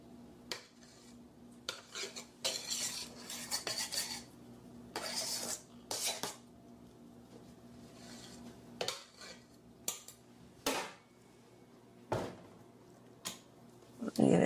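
Pound cake batter for a Jamaican white rum cake being beaten in a bowl, with irregular scraping and clinking bursts of a utensil against the bowl, moderately close, amid faint room noise.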